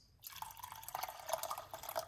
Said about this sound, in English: you can put a little bit of hot water on it